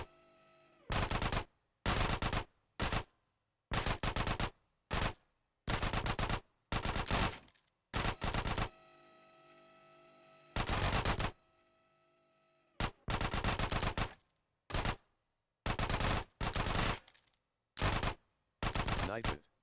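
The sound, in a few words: micro SMG gunfire in video game GTA San Andreas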